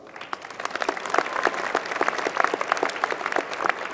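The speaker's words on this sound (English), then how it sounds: "Please give her a round of applause" Applause at a university engineering commencement ceremony, with individual claps distinct and fairly sparse, building slightly and holding at moderate level.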